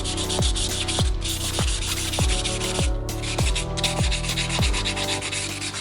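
Rhythmic back-and-forth hand sanding on a wooden surfboard near the fin box during final sanding and polishing, a steady close rasping stroke repeating about twice per second with no talk.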